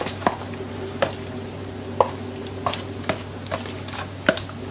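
Wheat flour batter for pakoras whisked by hand in a bowl to smooth out lumps: soft, regular sloshing strokes roughly every second, close up, over a low steady background hum, with no speech.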